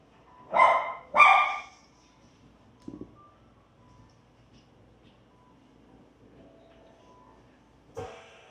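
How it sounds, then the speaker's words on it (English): Several dogs barking during a yoga class, two loud barks near the start and a fainter one much later, separated by near silence. "There's like 4 dogs that really want to greet each other, but can't."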